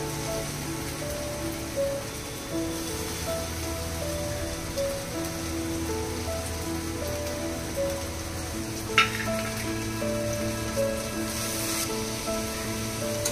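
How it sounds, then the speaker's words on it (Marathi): Dried shrimp (jawala) roasting in a pan give off a steady, dense sizzle and crackle like light rain, with a faint background hum and one sharp clink near the middle. "जवला भाजतोय आपला"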